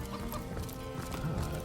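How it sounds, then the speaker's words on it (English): A chicken in the Divinity role-playing game clucks after being kicked, a short fowl cry over a busy, steady game soundscape. "Yes, kick the chicken."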